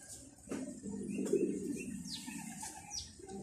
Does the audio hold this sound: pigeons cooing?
yes